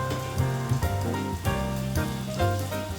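Tomatoes hit a hot pan of frying eggs and onions, giving a steady crackling sizzle throughout. The sizzle runs close and even, with a low hum of music or background tone beneath it and no talk.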